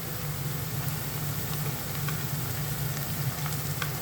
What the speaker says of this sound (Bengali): গরম মশলা আর আদা রসুন ভালো করে ভাজিয়ে নিছি।